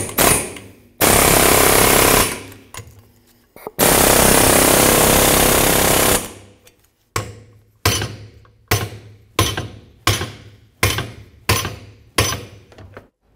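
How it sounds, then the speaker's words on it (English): Loud pneumatic air hammer with a long chisel bit, working on a 1999-2006 Chevrolet Silverado 1500 driveshaft center bearing: two long sustained bursts, then short rapid bursts with brief pauses, harsh metallic chattering close up. "Just gonna use my air hammer here with a long chisel bit."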